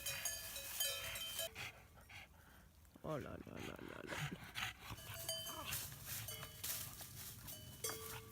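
Cowbells on cows close by at a farm, clanking intermittently under frequent nearby talk and exclamations, with a dog and livestock noises in the background.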